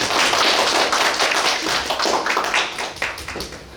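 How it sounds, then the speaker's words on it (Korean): An audience at a university graduate political science admissions session claps, a dense and steady burst of applause that tapers off slightly toward the end. "뜨거운 박수"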